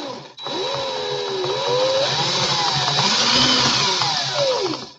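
A power drill whirs continuously at close range while twisting cord cores on a swivel, its motor pitch rising and dipping as the load changes, with faint clicks and scraping.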